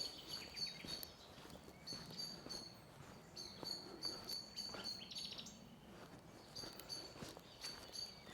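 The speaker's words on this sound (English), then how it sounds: "Listen to the birds," Birds chirp and tweet in natural countryside in France, several high calls repeating through the clip over a soft ambient bed with faint rustling, moderately distant and quiet.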